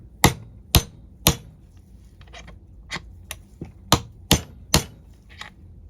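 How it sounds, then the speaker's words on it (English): A small hammer taps a crank seal into the case of a Stihl 044 Magnum chainsaw under rebuild, with about nine sharp, close metallic knocks. They come in irregular clusters with brief pauses between. "I'll just tap it home, and I'm going to use a smaller hammer for this."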